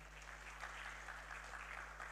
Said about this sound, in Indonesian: Boleh kasih tepuk tangan buat Allah kita